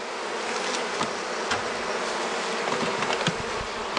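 Honey bees hum loudly and steadily while a colony is being moved into a fresh hive, a dense close buzz with a few sharp knocks against the wood.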